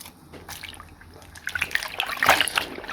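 Small doll clothes and a hair accessory rinsed under running tap water, with close splashing, dribbling and fabric squelches that grow busier toward the end.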